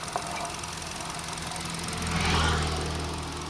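Steady close-up idle of a 1.2-litre naturally aspirated four-cylinder Kappa petrol engine in a Hyundai i20, an even low hum with light mechanical ticking that swells slightly midway, with no voices.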